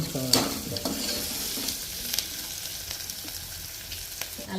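Close, continuous sizzling from a pan as ingredients fry to golden brown for a mutton head curry, broken by a few sharp spatula stirs near the start.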